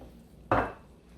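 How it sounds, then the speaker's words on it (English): A single crisp knife stroke shredding fresh basil leaves on a cutting board in a kitchen, one short close tap with a brief swish, alone in the quiet. "holding them all together using my vegetable knife, I'm just going to shred the basil leaves this way"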